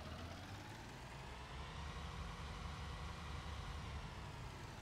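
A Fendt 800 S4 tractor engine running in Farming Simulator 19, a steady low droning rumble with constant loudness throughout, no talking.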